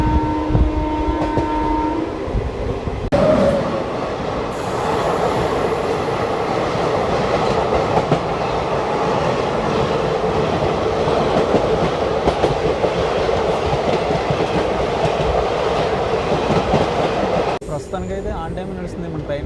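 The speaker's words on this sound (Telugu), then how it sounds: "ప్రస్తుతానికైతే ఆన్ టైం నడుస్తుంది మన ట్రైను." Garib Rath superfast express train runs between Visakhapatnam and Secunderabad, a loud continuous rumble with rhythmic clickety-clack of wheels on rails, heard close from inside the carriage for most of the stretch.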